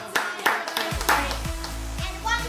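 Clapping at a child's birthday party, a few distinct hand claps in an uneven rhythm mixed with voices talking and a low hum underneath.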